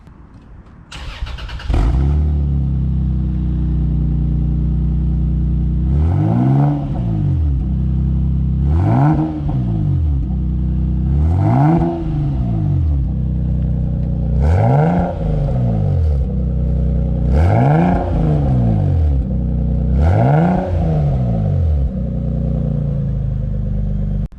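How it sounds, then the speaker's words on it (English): A bone-stock Toyota Supra MKIV fitted with an HKS racing muffler starts up and settles into a loud, deep idle, then gives six evenly spaced revs that climb and fall back, close to the exhaust with no talk. "So let's start it up and hear what it sounds like."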